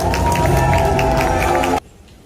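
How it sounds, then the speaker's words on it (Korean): Crowd applause and cheering at a Korean political forum launch ceremony, a loud dense roar of clapping with voices that cuts off abruptly near the end, leaving quiet room tone. "큰 박수 보내주세요."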